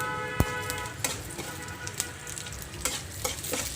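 Urad dal, chana dal, mustard seeds, cumin and dry red chillies crackle in hot oil for a chutney tempering, with a continuous close sizzle dotted by sharp pops and spatula scrapes.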